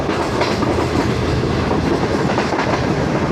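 The 28 Down Shalimar Express passenger train rolling steadily along the rails, a loud continuous rumble with rhythmic clickety-clack of wheels over joints, close by and unbroken throughout, no voices.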